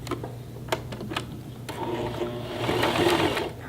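A sewing machine stitches through a card case project backed with parchment paper, starting with a few separate clicks, then running in a quick continuous mechanical whir that builds toward the end.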